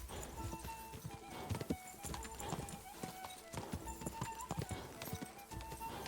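Rhythmic clip-clop of hooves from a galloping horse in the video game Kingdom Come: Deliverance 2, steady and fairly close, with faint background noise.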